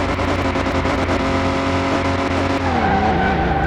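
Loud, steady engine drone from a 6-cylinder car running at about 130 mph on a disused runway in Car Mechanic Simulator 2021, with a shifting, squealing tone toward the end.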